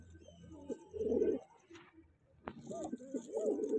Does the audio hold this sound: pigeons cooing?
yes